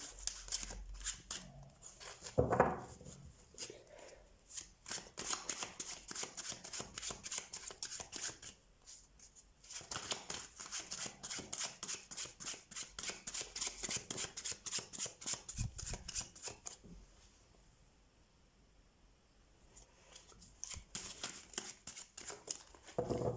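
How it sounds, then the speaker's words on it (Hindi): Tarot cards being shuffled by hand in rapid riffling bursts with short pauses between them, close and fairly quiet, with no talking. "तो सबसे पहले हम कार्ड शफल कर लेते हैं आपके लिए ऑप्शन 2।"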